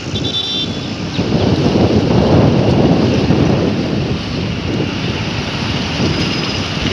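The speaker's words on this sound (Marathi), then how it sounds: "त्यांना काय बेकार हवा सुटली बघा खतरनाक झाला" Strong, dangerous wind gusts through a heavy monsoon storm beside the flooding Ulhas river, a loud, continuous broadband roar that swells slightly midway, with no voices.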